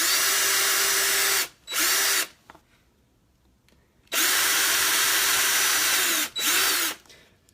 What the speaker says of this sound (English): I'm going to quickly drill through the rest of these 6